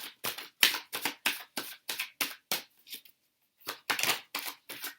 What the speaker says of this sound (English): now we're going to shuffle for 2 more cards.